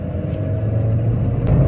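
A 2019 Honda Brio RS hatchback engine accelerating, heard from inside the car as a steady, loud low drone with rising tonal hum and road noise, no talk over it.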